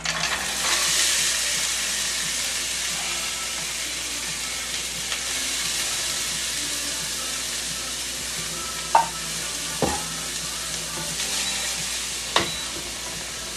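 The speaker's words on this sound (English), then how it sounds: "take your tongs and just sort of move your veggies around so they all get coated in the oil" Asian-style vegetables with baby corn stir-fry in hot oil, giving a steady, close hiss and sizzle that runs the whole time. A few sharp clacks from tongs or the pan cut in near the end.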